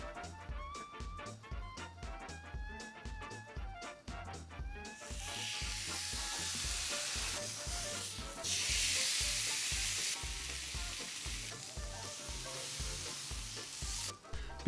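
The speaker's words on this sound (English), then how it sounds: "Now we clean the remaining marinade from the steak and start grilling." Steak sizzling on a grill, a loud continuous hiss that swells and fades in waves over a rhythmic background of repeated beats, with no one speaking.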